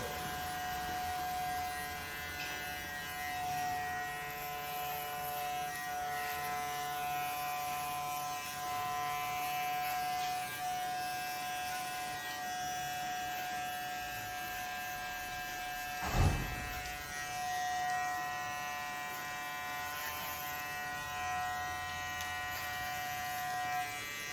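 Barber's electric clipper shaving the back of a neck, a steady close buzzing hum running throughout with a brief louder bump midway, no talking.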